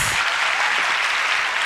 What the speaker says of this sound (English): That deserves another round of huge applause